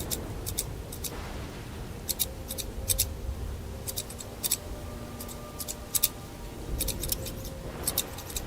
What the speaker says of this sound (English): So, also we have scissors now.